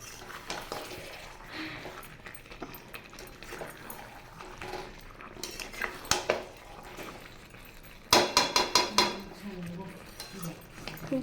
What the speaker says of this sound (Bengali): খুব ভালো করে আমি মিশিয়ে নিলাম।